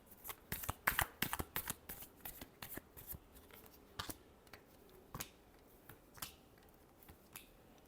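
A deck of cards is shuffled close up, with a quick run of crisp riffling snaps at the start and then scattered softer flicks and taps, with no talk.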